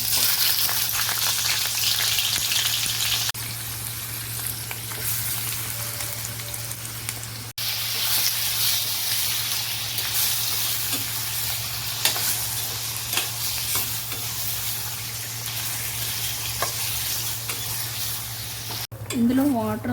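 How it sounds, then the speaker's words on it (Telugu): Cleaned prawns fry in oil in a pan as their released water cooks off, making a steady, close sizzle with intermittent scraping from stirring, a low constant hum and no talking. "ఈ వాటర్ అంతా ఇంకిపోయే వరకు వేయించుకోవాలి ఇవి"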